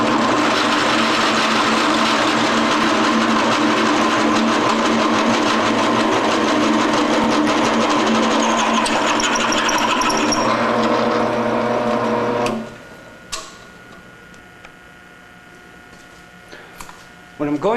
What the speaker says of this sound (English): so I have to drill the hole out to 9/16 of an inch